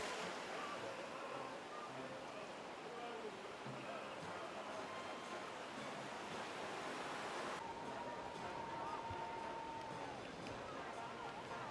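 Ocean surf with small waves at a beach: a steady, broad wash of breaking water and spray that fills the whole stretch at an even loudness, with no voices.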